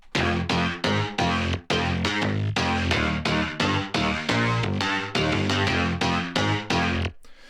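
A distorted, synthetic guitar-like riff plays alone in choppy, rhythmic stabs, loud and bright, ending abruptly.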